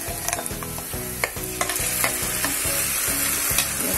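Spinach paste frying with onions in a pan for palak paneer, a loud dense sizzle with rhythmic scraping strokes of a spoon stirring roughly twice a second, close and continuous without talking.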